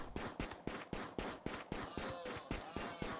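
A quiet, evenly spaced volley of about a dozen sharp shots rings out from a firefight in the colony game RimWorld.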